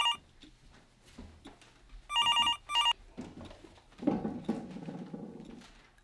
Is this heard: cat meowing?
no